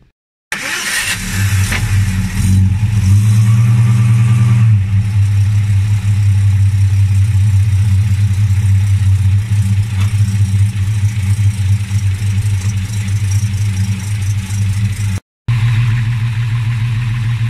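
A classic Chrysler Valiant car engine, fitted with a new radiator, cranks and catches, then settles into a steady, loud idle with a brief rev early on, continuing without talk.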